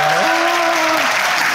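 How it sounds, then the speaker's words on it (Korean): Audience applause at a book-launch seminar, a steady dense wash of clapping filling the whole stretch at close range, with a faint voice briefly audible underneath. "박수 부탁드리겠습니다."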